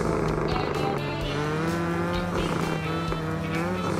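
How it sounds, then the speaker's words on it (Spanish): A Mini Cooper slides on cold tyres during a rallycross race in Project CARS 2, its engine droning and revving steadily while tyres squeal and scrub in a continuous, fairly loud stretch. "Están las ruedas frías, así que vamos a hacer mucho derrape todavía."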